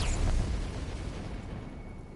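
Enemy fire aimed at the player in the video game Forspoken lands as a heavy explosive boom with a deep rumbling burst at the start, then fades into a lingering low roar; no one speaks.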